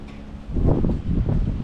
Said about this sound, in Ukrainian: Але вітер піднявся гарний і добрий.